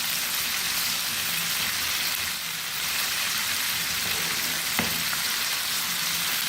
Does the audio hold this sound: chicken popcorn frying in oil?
yes